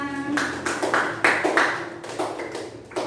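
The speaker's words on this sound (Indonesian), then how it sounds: "tepuk tangan buat Rara" Classroom applause for a student, a short burst of clapping from a small group with distinct individual claps, close and uneven, lasting about three seconds.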